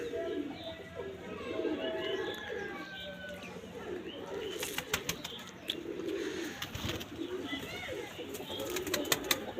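Pigeons in a loft cooing in soft, repeated bursts, close by, with occasional wing flaps and light chirps over a steady background of farmyard noise.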